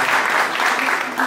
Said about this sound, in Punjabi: ਪਹਿਲਾਂ ਤਾਂ ਇਹਨਾਂ ਦੀ ਤਾੜੀਆਂ ਮਾਰੋ ਜੀ